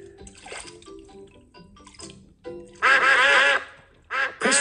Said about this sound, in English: they have come to say thank you